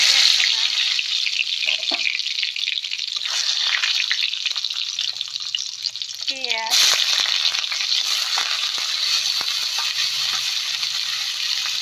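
Onion frying in hot oil in a wok, a steady loud crackling sizzle with stirring scrapes and clatter, briefly swelling into a sharper burst partway through.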